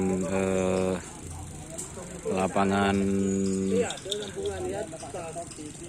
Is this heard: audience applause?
no